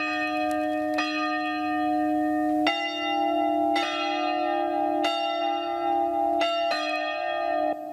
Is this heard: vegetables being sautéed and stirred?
no